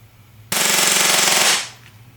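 A CowCow AAP airsoft pistol at stock 125 psi fires one loud, continuous full-auto burst lasting about a second, abrupt at the start and trailing off quickly afterward.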